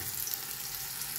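Pork roast sizzles in a cooking pot, a steady soft frying hiss with faint crackle, continuous and close, no talk.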